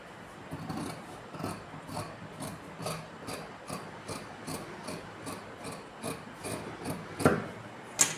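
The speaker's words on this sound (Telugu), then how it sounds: "ఇప్పుడు నేను మార్కింగ్ చేసుకునే విధంగా కటింగ్ అనేది చేస్తున్నా" Scissors cutting through blouse fabric along chalk markings, a steady series of close rasping snips at an even rhythm, ending with a couple of sharper clicks.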